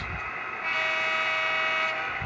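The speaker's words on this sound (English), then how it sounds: "I like the horn sound, but this horn is very quiet." A thin, steady horn tone from an HO scale Intermountain BN SD40-2 model locomotive sounds continuously, with a fainter start that swells a bit louder and holds, fairly quiet overall with no talking.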